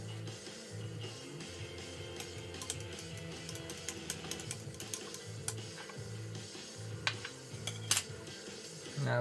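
A tool stirs pigment into paint in a small container, producing faint, irregular ticking and clinking taps against the sides over a low steady background hum, quiet and close, no talking.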